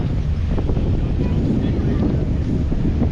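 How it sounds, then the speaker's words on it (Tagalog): Strong wind roars steadily against the microphone by the sea, a constant low, buffeting rush with no pauses. "Medyo lumalakas na ang hangin"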